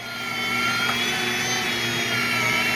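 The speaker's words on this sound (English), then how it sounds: "The grinding has begun." Electric grinder grinding seasoned sausage meat, a steady, loud motor whine with a constant drone that holds unbroken for the whole stretch, no voices over it.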